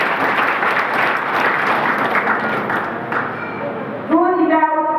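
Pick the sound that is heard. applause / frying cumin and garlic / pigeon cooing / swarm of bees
applause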